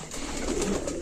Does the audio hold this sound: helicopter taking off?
no